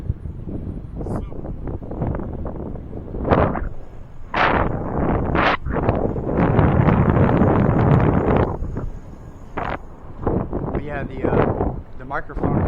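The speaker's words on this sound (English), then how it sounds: "when I turn back this way, you hear all kind of wind." Wind buffeting a handheld device's side-mounted microphone on a riverside bike trail, loud rumbling gusts that swell and fade in bursts with someone speaking over them.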